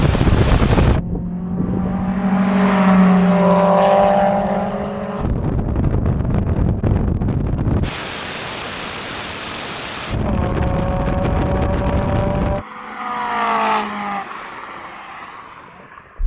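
Mazda MX-5 roadsters, one turbocharged, accelerate hard in a drag race, loud rising engine notes climbing through the gears, split by bursts of rushing wind noise between pulls.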